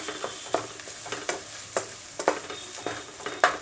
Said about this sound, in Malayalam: മസാല ഒന്ന് ഇതിൽ ഒന്ന് ഫ്രൈ ചെയ്യണം